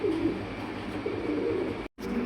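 Fancy pigeons offered for sale coo in low, throaty, continuous calls close by, steady throughout with one brief dropout near the end.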